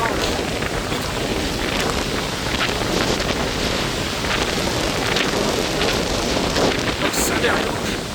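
Strong wind gusts from a thunderstorm front sweep through a valley with trees, roaring steadily and loudly against the microphone for the whole stretch, with brief surging peaks.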